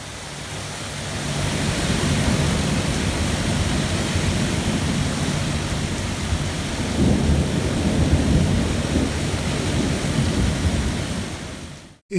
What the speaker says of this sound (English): My goodness, it's raining buckets.